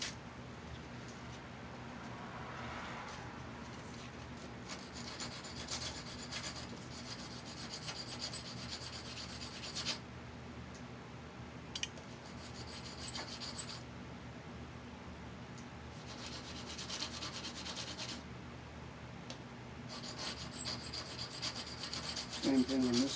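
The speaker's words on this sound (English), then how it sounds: "I'll take my sandpaper and we'll just rough this up a little here" Sandpaper roughs up a metal surface on an AC primary line before soldering, a steady close scratchy rubbing that goes on throughout in broad bursts with short pauses.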